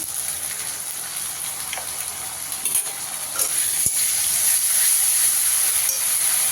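Onions frying with ginger, garlic and green chili paste give a steady hiss and sizzle that swells louder partway through, with faint stirring clicks and no talk.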